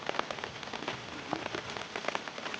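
Heavy rain pours down on a fishing camp during a storm, a loud dense hiss with constant pattering of drops striking nearby surfaces, no talking.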